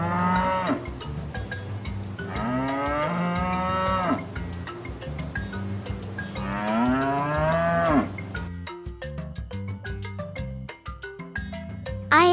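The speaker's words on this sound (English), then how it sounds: "I am a cow." Cattle mooing in a farm animal sounds game, several long drawn-out lowing calls one after another over steady background music, loud and close.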